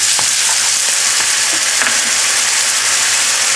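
Twice-cooked Sichuan pork stir-frying in a pan, with a steady loud sizzle throughout and a few scraping, stirring clicks from a utensil; no talking.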